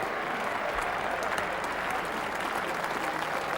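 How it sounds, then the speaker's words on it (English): Cricket crowd in a stadium applauding a dismissed batsman, Nick Cook, as he walks off after being caught, a continuous even wash of distant clapping with faint crowd murmur underneath. "Applause there for Nick Cook"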